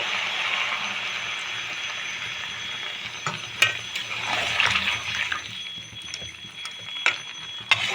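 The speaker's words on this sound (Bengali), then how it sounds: "এখন আমি অল্প করে জল অ্যাড করে দেব" Water is poured into a hot pan of vegetarian potato, chickpea and pumpkin curry: a steady loud sizzle with hissing and stirring scrapes, swelling midway as the liquid hits, then settling, no voices.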